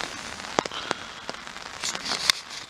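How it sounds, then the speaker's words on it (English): Rain patters on a hillside wild camp in the morning, a light, steady wash of drips with scattered sharper taps close by, no talking. "Raining again."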